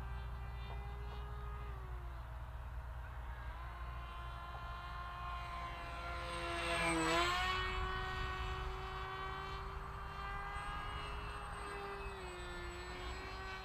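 A Nicesky F35 pusher RC model jet with a steady electric whine flies past, swelling louder and shifting pitch as it passes overhead midway, then easing off against steady background noise.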